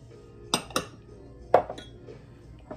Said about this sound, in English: now I'm going to put my onion in.